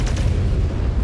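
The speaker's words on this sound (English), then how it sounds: "You've got missiles coming towards you, dude." A missile explosion in MechWarrior 5 lands as a single heavy, rumbling boom that fills the whole second with a deep, loud roar and no talk.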